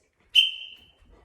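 A dog training whistle blown once for recall gives a single sharp, piercing tone that starts abruptly and trails off over about half a second, loud and close, with no talking.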